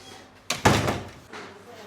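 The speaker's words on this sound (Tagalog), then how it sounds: "Sarado ko lang ang pinto" A door swings shut with a solid thump, followed by a brief rattle, heard fairly close indoors while people talk around it.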